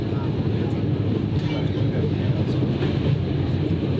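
Steady rumbling of a Flåm Railway train in Norway running along the rails, a constant low roar with faint clatter throughout.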